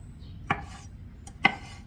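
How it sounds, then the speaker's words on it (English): A knife strikes a cutting board twice while chopping salad vegetables such as cucumber, two crisp, close, separate thuds about a second apart in a quiet kitchen. "I'm just going to be chopping today"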